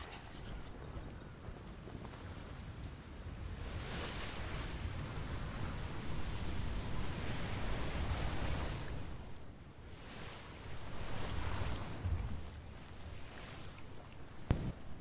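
A ship sails through ocean waves in a video game, a steady wash of water and wind with surging swells rising and falling, alone with no talk.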